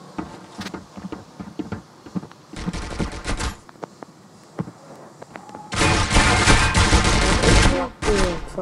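Rapid automatic gunfire from the mobile shooter Critical Ops crackles in loud sustained bursts with single shots scattered between, close and dominant.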